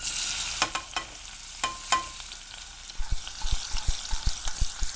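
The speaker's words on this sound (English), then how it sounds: "I'm going to saute the onions" Onions sautéing in olive oil over high heat, a steady broadband sizzle with occasional sharper crackles and spatters, then a run of rhythmic low thumps and scrapes of stirring near the end, close and fairly loud.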